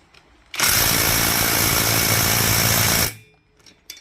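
Impact wrench loosening the head bolts on a broken-down Duromax 440cc engine: one loud, steady whirring burst of about two and a half seconds that starts and stops abruptly, alone and close.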